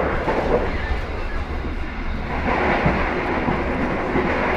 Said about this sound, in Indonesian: Habis ini ada rel berisik lagi teman-teman.